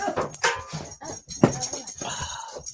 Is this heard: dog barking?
yes